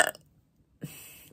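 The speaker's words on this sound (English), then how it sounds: "Let that burp be the signifier of challenge." One short, close burp from a person, low and brief, rising abruptly after a moment of quiet.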